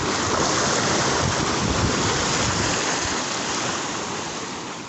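Rough ocean surf crashes along the Jambi coast at Kuala Simbur village during extreme weather, a loud, continuous roar of breaking waves mixed with wind that eases slightly toward the end.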